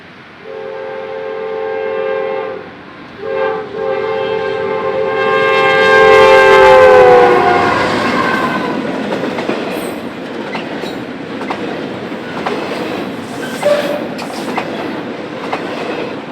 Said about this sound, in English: eastbound stack train 22H would make an appearance first on the NS Chicago line